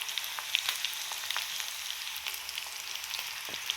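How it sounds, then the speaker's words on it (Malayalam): Garlic and shallots fry in hot oil, a steady close crackling sizzle with small pops and spits and no voice. "എണ്ണ ചൂടായി വരുമ്പം വെളുത്തുള്ളി ഇട്ട് കൊടുക്കാം ചെമ്മണുള്ളി ഇട്ട് കൊടുക്കാം"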